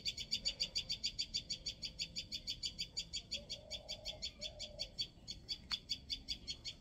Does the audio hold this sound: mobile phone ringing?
no